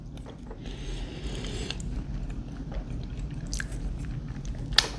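Chewing MRE beef taco filling, seasoned with cumin and mild spice: soft close-up mastication with wet squishes and a few crisper clicks, quiet against a faint background hum.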